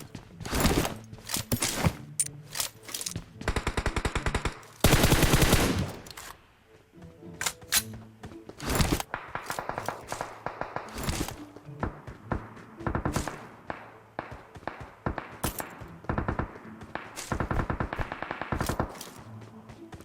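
Gunfire rings out in the mobile battle royale game PUBG Mobile: loud, close bursts of rapid shots and single cracks with short pauses between, plus a dense automatic volley near the middle.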